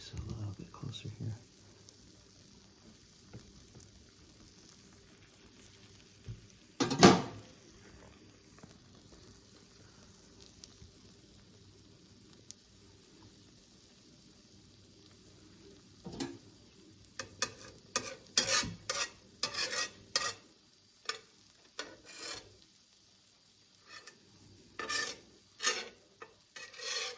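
A grilled cheese sandwich sizzles faintly in a pan, a soft steady hiss broken by scraping and clattering of a utensil, with bursts of louder handling toward the end; a voice speaks at times.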